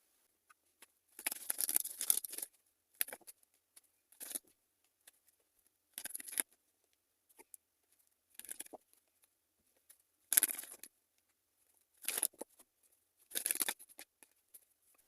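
Tarot cards handled and shuffled in short, crisp riffling bursts, a series of dry papery flutters separated by silent gaps, close and quiet.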